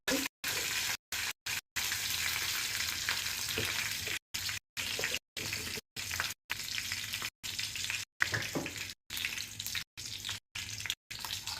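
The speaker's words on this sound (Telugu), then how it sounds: "కొంచెం కరివేపాకు, కొంచెం చిట్టపట్టలు ఆడించి" Curry leaves and cumin seeds crackle and sizzle in hot oil, a steady dense frying hiss running throughout with repeated brief cut-outs, no voices.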